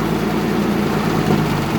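A Chrysler car engine idles roughly and unevenly, a loud, close, low rumbling drone with slight wavering and no talk over it.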